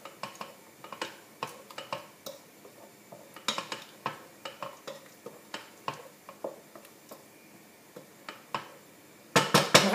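Tomato and minced meat for spaghetti bolognese being stirred in a pot with a metal utensil, a steady series of distinct clinks and taps against the pot, closer and louder clatter at the end.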